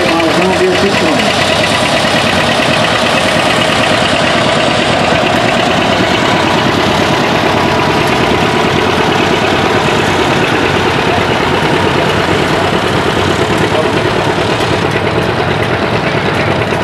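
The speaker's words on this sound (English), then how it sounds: "1958 Model John Deere 620." A 1958 John Deere Model 620 tractor engine idles outdoors at a plow day gathering, a continuous loud mechanical rumble that holds steady for the whole stretch.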